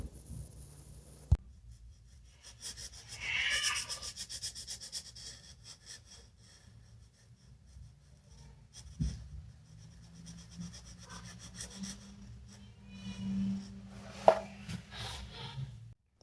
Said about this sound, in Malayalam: നമ്മളിങ്ങനെ പതുക്കെ പതുക്കെ പതുക്കെ ബ്ലൂയുടെ നോസിനെ കളർ ചെയ്യാം